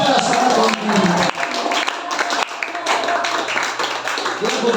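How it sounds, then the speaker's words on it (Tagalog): Congregation clapping hands during a Sunday church service, a dense steady patter of claps running throughout, mixed with music and a voice talking over it. "Clap your hands to the Lord one more time."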